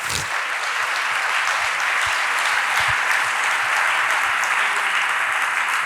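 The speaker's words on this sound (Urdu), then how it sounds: "یسوع مسیح ناصری کے لیے زوردار تالیاں بجائیے۔" A church congregation claps loudly and continuously in a dense, even wash of applause that runs unbroken from start to finish.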